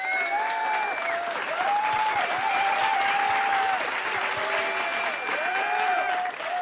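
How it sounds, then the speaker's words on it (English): Sustained clapping and applause, a dense even patter of many hands with sustained musical tones running underneath, loud and continuous without a break. "let me just give you a clap"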